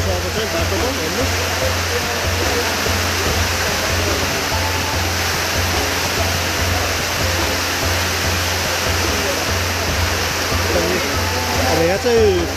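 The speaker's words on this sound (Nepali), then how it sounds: "खोला भर्खर पानी ढल आइरहेको छ" Fast stream water rushing downhill in a Nepali village, a steady, loud, broadband roar of turbulent runoff that fills the whole clip without pause, with no clear voices over it.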